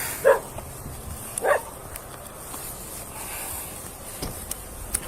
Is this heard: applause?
no